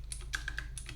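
Quick typing on a Mac computer keyboard in a terminal, several crisp close key clicks in a rapid uneven run over a low steady hum.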